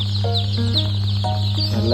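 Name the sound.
Rhode Island Red chickens clucking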